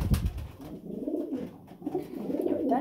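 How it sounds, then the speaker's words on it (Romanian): A red female pigeon, hatched this year, coos softly in a low, rolling, repeated murmur at close range, with no talking over it. "Deci avem aici porumbelul preferat."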